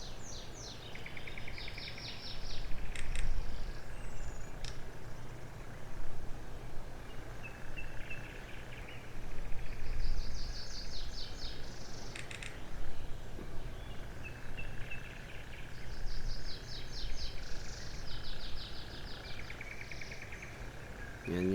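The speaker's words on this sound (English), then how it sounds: "I did add in background sound for birds chirping and whatnot" Ambient background of birds chirping in a survival video game, faint intermittent tweets and trills over a steady low hum and insect-like buzz, with no talking.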